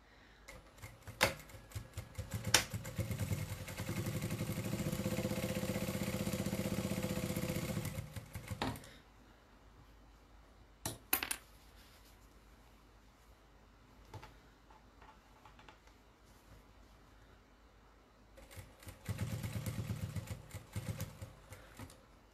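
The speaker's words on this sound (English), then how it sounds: "I just start randomly sewing" Sewing machine stitching a cathedral windows table runner, running in a steady mechanical whir for several seconds, stopping, then a few brief taps and a second short burst of stitching near the end.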